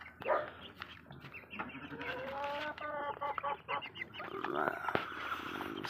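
Chickens and young chicks on a farm cluck and peep continuously at close range, with busy overlapping calls and other farm animals mixed in.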